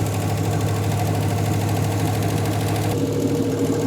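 A 1957 Chevy V8 runs after sitting for over 40 years, a loud steady idle with a rough pulsing knock, close up and with no voices.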